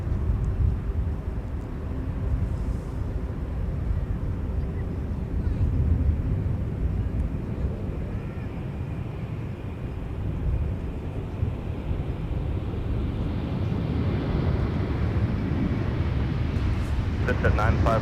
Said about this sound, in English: Now thundering off runway 30 left for Amsterdam.